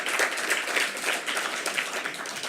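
Audience applause at a Paris 15th arrondissement council meeting welcoming a new member, a steady fairly close patter of many hands clapping for a couple of seconds without talk.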